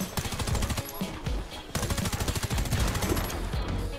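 Honey Badger rifle gunfire in the video game Warface, fast dense bursts of close, loud automatic shots with a short pause midway, then continuing rapid fire.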